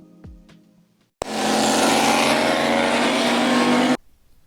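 Twin turbo cars street racing: a few faint engine blips, then a sudden loud full-throttle roar held for about three seconds before cutting off abruptly, with no talk.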